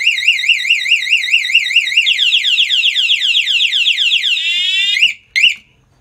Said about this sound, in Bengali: যদি পুনরায় টাচ করি তাহলে অ্যালার্মটা জোরে বাজবে এবং বাজতেই থাকবে।